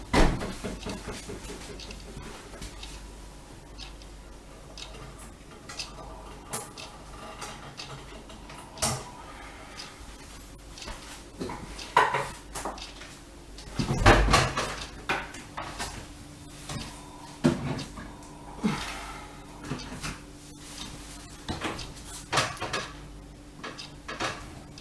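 A fridge door opens and small glass dessert jars go onto a lower shelf, with scattered clinks, clunks and soft creaks spread over about twenty-five seconds and faint voices now and then.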